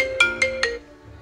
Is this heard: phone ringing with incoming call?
yes